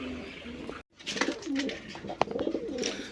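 Racer pigeons at a farm, males among them, coo nearby in repeated warbling calls after a brief break, with soft rustling between the calls.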